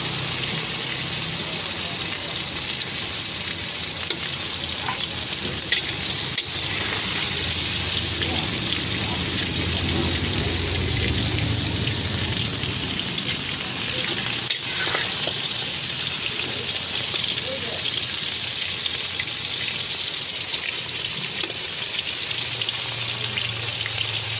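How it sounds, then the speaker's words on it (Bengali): Okra fries in hot oil with a dense, continuous sizzle and crackle, loud and close, steady throughout with occasional sharper pops; no voices. "ভিন্ডিগুলো হয়ে এসছে, এবার এগুলোকে ঝান্নার সাহায্যে তুলে নেব।"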